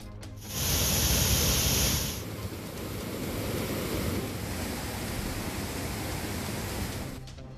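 Rough sea waves: a loud, broad roar of surf that swells in one harder rush early on, then settles into a constant, churning wash that carries on at a steady level until it cuts off.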